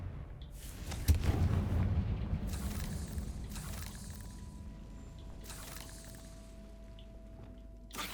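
A Confringo blast spell goes off in the Hogwarts Legacy video game, a loud low-heavy explosion burst about one second in that rumbles and decays over several seconds, with faint crackling debris and a soft tonal hum behind it.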